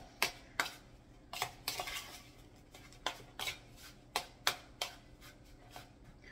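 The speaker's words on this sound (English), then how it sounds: "and then stir" Cinnamon sugar is stirred into a fall dessert, a utensil clicking and tapping sharply against a bowl in roughly a dozen irregular strokes over a quiet background.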